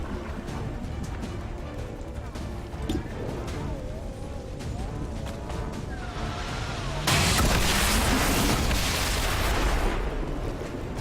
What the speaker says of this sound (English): The explosion range of the gatekeeper is larger than I would have imagined.